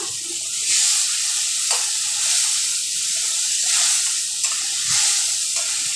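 Turmeric and chili paste fry in a pan after a splash of water, giving a loud, continuous hiss and sizzle that swells and eases in waves with a few soft scrapes, no voices.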